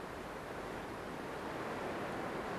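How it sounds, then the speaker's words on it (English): Strong wind coming straight off the Atlantic over surf on an open beach: a steady, loud broadband roar of gusting wind and breaking waves with no voices and no distinct individual sounds. "facing this incredibly strong wind coming straight off the Atlantic"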